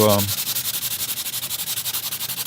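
Rapid, rhythmic sanding strokes rasp back and forth against gesso on a canvas, close and loud, after a brief voice at the start.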